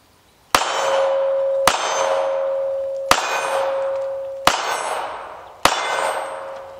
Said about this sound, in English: we're going to chamber around, and we're going to shoot this steel plate down here